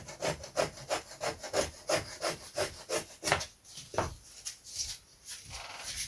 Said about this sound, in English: Let's just cut off those overhangy bits, shall we?